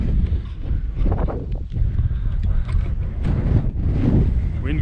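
Wind buffeting a microphone on a golf course at Isle of Purbeck Golf Club, a loud, constant low roar with rumbling gusts throughout and faint voices under it.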